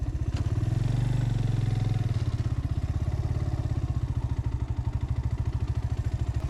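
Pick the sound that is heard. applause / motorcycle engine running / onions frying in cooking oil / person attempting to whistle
motorcycle engine running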